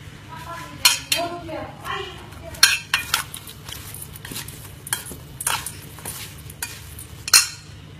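Lime juice, ginger, garlic and chili being stirred together in a bowl for quick-pickled Thai eggplant, with scattered clinks and scrapes of a utensil against the dish at an uneven rhythm, close and moderately loud.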